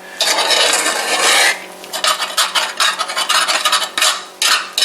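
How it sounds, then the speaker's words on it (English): A utensil scrapes across a skillet with gravy, a harsh rasping stroke followed by a series of shorter, uneven scrapes, loud and close with no talking. "scraping, getting everything off this skillet right here"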